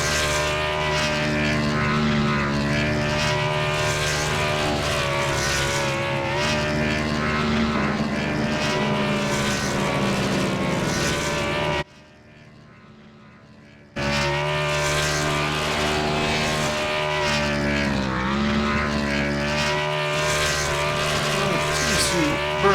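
A race car engine roars loud and steady through a burnout at Rockingham in iRacing, with a brief near-silent gap midway before the sustained engine noise returns.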